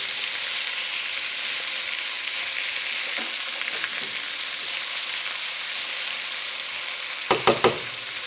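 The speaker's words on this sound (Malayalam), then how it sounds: "സ്റ്റൗവിൻ്റെ ചൂട് മീഡിയം ഫ്ലെയിമിലാക്കിയതിന് ശേഷം പൊട്ടാറ്റോയും ഒണിയനും കുക്കാകുന്നത് വരെ" Potato and onion frying in a pan over a medium flame for a Spanish omelette, a loud steady sizzle throughout, with a few soft stirring scrapes and two brief knocks near the end.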